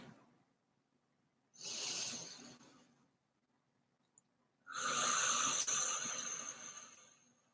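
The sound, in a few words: deep cleansing breaths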